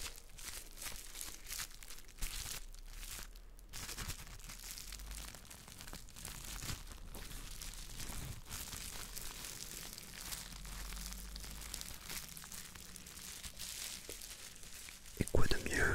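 Old bubble wrap being crinkled and squeezed close to the mic in a French-language ASMR personal-attention session, giving a steady dense crackle with a few sharper crunches and a louder burst near the end, under soft talk.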